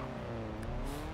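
Audi TTS engine in Forza Horizon 4, a steady close drone with rising harmonic lines as the car revs, continuous and loud for about a second with no talk over it.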